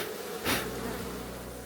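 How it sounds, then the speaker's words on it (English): Dense, steady buzzing of a honeybee swarm by a large tree, close and continuous, with one louder swell as a bee passes near. "there's lots of bees over there. So this is the second swarm in a week."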